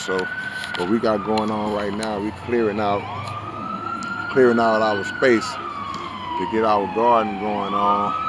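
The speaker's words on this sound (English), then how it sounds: "Y'all excuse the police sirens" A police siren wails steadily in the distance with a rising and falling tone, heard through outdoor talk while a garden space is cleared.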